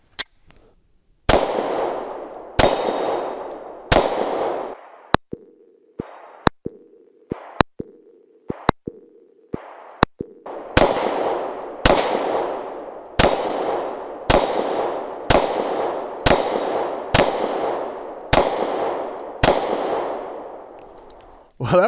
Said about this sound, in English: Let's go ahead and see if we can put these on target and hit that popper.